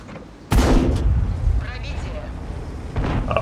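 A single heavy tank gun blast in World of Tanks, a sudden loud boom followed by a rumbling tail and clanking mechanical noise, with a voice talking faintly underneath.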